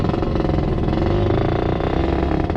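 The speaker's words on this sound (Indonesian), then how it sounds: "suara knalpot merdu banget sumpah" Suzuki Satria 120R motorcycle fitted with an AHM exhaust, a close, loud, steady engine note with a rapid pulsing exhaust rhythm, heard alone.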